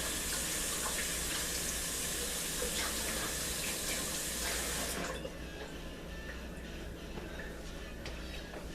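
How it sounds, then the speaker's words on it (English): Tap water runs into a sink while hands are washed, a steady faint hiss that drops to a quieter flow partway through, with occasional small splashes. "So once that's done, I'm going to wash my hands really well."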